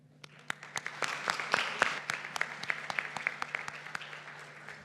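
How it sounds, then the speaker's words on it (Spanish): Audience at a Peruvian wealth-management and financial-planning summit applauds a panel, with distinct individual claps standing out over a steady room hum, building slightly and then holding at a moderate level. "Un fuerte aplauso para ellos."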